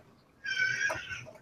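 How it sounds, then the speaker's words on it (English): A cat gives a single short, high-pitched meow, fairly faint against a quiet room background, with no talking over it. "I thought that was a cat meme, Ellie."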